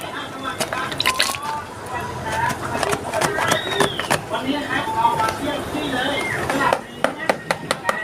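Coconut milk being poured into a sago and corn dessert, with liquid trickling and dripping, spoon clinks and sharp taps, mixed with someone talking over the kitchen sounds.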